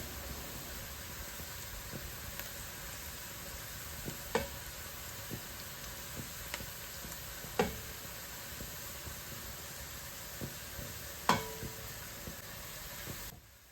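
Steady soft sizzle of masala spices with crushed chili, turmeric and salt frying in a pan for mash daal, with occasional sharp knocks and scrapes of stirring, close and constant.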